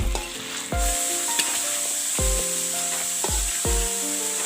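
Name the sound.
mutton and potatoes frying in a pan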